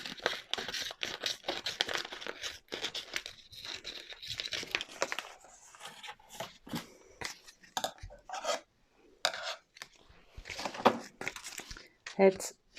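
Crinkling and peeling of Bouklon transfer tape being handled while vinyl is applied to glass, with close, irregular rustles and tears, partly under a voice talking.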